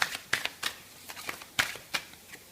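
Tarot cards handled and laid down in a reading, a series of crisp papery flicks and slaps at an uneven rhythm, close and fairly loud.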